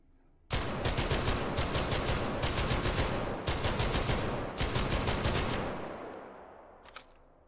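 M2 heavy machine gun in the VR game H3VR, loud rapid automatic bursts in long strings with short pauses, tailing off into a final faint shot.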